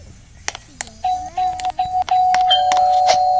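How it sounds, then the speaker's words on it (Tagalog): A doorbell in Brookhaven chimes in sustained electronic tones, with several clicks and short bleeps around it and faint background noise underneath. "Ito yung doorbell"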